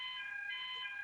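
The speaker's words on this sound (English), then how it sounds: "That's the fire alarm going off," During a test, a building fire alarm sounds as a faint, steady electronic tone with several sustained high pitches, heard continuously at a distance with no talking.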